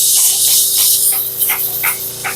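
A nearly empty PB Blaster penetrating-oil aerosol can sputters during a 1971 Volkswagen Super Beetle engine removal, giving a steady loud hiss broken by several short spitting bursts near the end.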